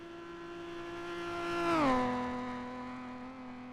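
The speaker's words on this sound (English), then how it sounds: "Two-litre car sounding like an angry bee." A two-litre racing car passes on the Isle of Man time trial course with a high, buzzing engine note that swells to a near peak, then drops in pitch as it goes by and away.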